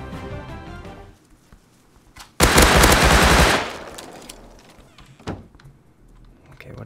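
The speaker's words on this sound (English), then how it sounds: "Gunfire going on in there." Automatic gunfire in the video game Rust erupts in one loud, dense burst of rapid shots lasting about a second, standing out over quieter game ambience with a few scattered thuds before and after.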